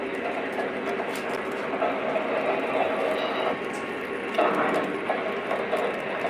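Model GP30 diesel locomotive rolling along a layout track, a steady low rumble with light rhythmic clicking of wheels over rail joints, fairly close and continuous, with faint background noise.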